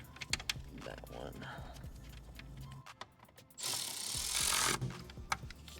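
Bolts are tightened on the wiper assembly of a BMW E90, with a ratchet clicking in short bursts and a longer run of rapid ratcheting, mixed with metallic handling noises and quiet talk.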